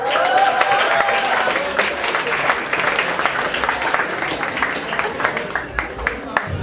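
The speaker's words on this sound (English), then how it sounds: "So give a round of applause to yourself." An audience at a systems biology talk applauding, a thick, sustained wash of many hands clapping that fills the hall evenly, with some voices mixed in.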